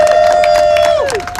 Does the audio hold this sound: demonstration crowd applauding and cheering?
yes